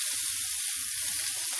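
Kotlety, meat patties, fry in plenty of oil in a pan, giving a steady, close sizzle with a constant bright hiss that runs without a break through the whole moment.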